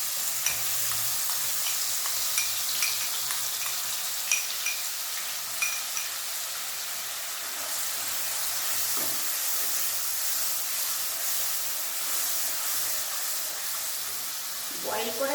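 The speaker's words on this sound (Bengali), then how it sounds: "ফোড়নে দেবো জিরে, দারচিনি, এলাইচি আর একটা শুকনো লঙ্কা।" Cumin, cinnamon, cardamom and a dry red chili sizzle in hot oil. A steady, close crackling hiss runs throughout, with occasional light clinks from stirring.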